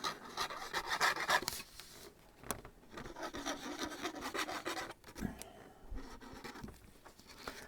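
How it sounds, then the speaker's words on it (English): A tool burnishes a glued, folded paper flap on a cat-themed scrapbook album, making close, dry scraping and rubbing strokes in uneven bursts with short pauses between them. "Fold that up and burnish the two sides here."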